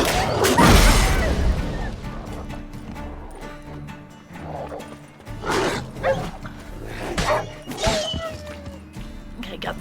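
A dog barks and yips in The Witcher 3, mixed with horse hoofbeats, combat crashes and game ambience, with someone talking over it.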